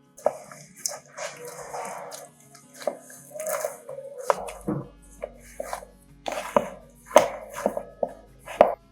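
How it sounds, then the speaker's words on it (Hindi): Dough being kneaded by hand for a potato-stuffed bread, with milk and a splash of water worked in: close, irregular wet slaps, squishes and presses coming in uneven bursts, with no talking. "आटे को अच्छे से गूंद लेना है।"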